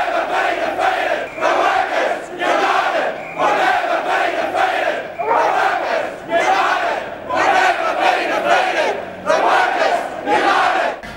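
Crowd of union workers and trade unionists chanting rhythmically in unison at a protest blockade outside a casino, loud and close, with steady repeated phrases rising and falling throughout.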